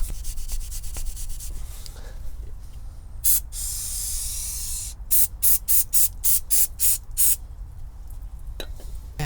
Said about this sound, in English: I'm going to take a wire brush and I'm going to clean this surface